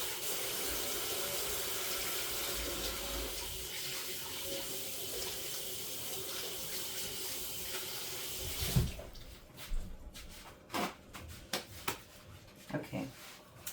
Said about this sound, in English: Okay, I'm gonna wash my hands and then I'll be back.